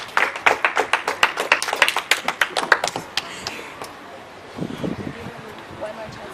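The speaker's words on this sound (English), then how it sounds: "clap for Group A" Group of children in a classroom clapping for their team, a quick run of sharp, close, uneven claps for about three seconds that then fade into murmuring voices.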